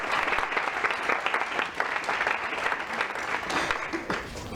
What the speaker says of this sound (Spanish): Un aplauso para Jon.